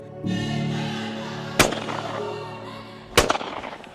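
Two sharp shotgun blasts at a dove shoot on Lake Kariba, Zimbabwe, loud and close, spaced about a second and a half apart, each with a short echoing tail over an engine-like hum.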